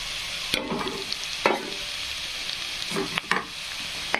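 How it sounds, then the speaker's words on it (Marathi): Onion fries in hot oil in a pan with a steady, close sizzle, broken by a few sharp clicks and scrapes of stirring as black chili powder is added. "फ्राय झाला कांदा. तेल तापलेलं आहे ना, त्यामुळं जास्त पण करपवायचा नाही."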